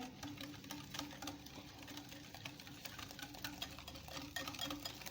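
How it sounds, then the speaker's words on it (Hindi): Eggs and sugar beaten together for suji halwa, a continuous whirring, rattling mixer-like drone with rapid regular beating, steady and close throughout. "मैंने अच्छे से अंडों को, चीनी को अच्छे से फेंट लिया।"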